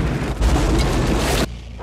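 A grenade explodes in an action film scene, a loud, dense blast with a rolling low rumble that cuts off sharply after about a second and a half, leaving a quieter low-level tail.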